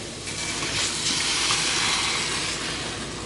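Eggs mixed with hash browns sizzle in a pan with a steady, bright hiss that swells slightly midway and holds constant, close and alone with no voices.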